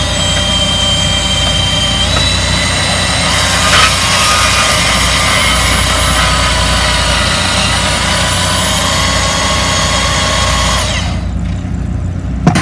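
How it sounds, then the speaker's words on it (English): A bandsaw runs continuously, a loud, steady mechanical drone with a broad whine and hiss that holds for most of the time, then drops off sharply near the end. No one speaks. "you're able to use two hands on the bandsaw, pull the trigger"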